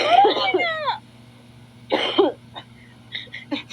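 Harsh coughing bursts, a cluster at the start and another burst about two seconds later, close up, with brief faint voice sounds after.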